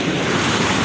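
Sea waves wash onto a beach in light rain, a loud, continuous roar of surf blended with wind rumble against the microphone.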